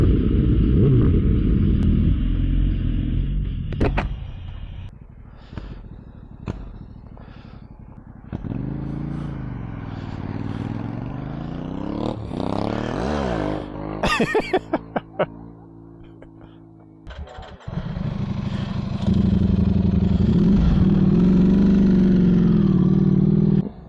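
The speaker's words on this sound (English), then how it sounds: "Get to listen to Greg's noisy BMW again" A noisy BMW motorcycle engine drones and revs on a fall ride, its pitch rising and falling as it accelerates, with wind rush and a brief burst of clattering pops near the middle.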